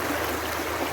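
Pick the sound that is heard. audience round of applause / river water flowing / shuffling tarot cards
river water flowing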